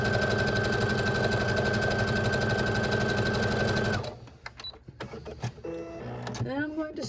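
A sewing machine runs fast and steady, stitching quilt fabric strips for about four seconds. It then stops, leaving handling noises and a few faint clicks.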